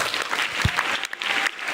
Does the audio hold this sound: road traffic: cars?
no